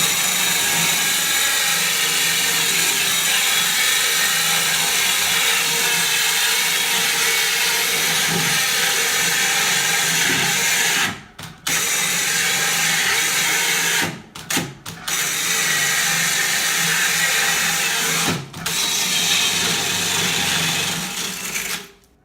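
A Bosch Endurance for Heavy Duty hole saw on a ProClip 2 system cutting through ceramic wall tile, giving a steady, loud grinding whir that runs continuously and breaks off in several brief pauses toward the end.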